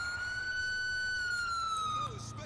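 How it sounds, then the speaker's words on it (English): A police car siren in the video game LCPDFR wails in a long, sustained tone that slowly rises and falls, loud and close, then cuts off near the end, with engine rumble underneath. "Turn up my siren, it's fucking annoying."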